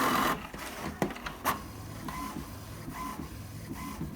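HP SmartTank 7001 inkjet printer working at close range: a few sharp mechanical clicks and knocks, then a steady low motor whir with a faint rhythmic tonal whine as the print head moves back and forth.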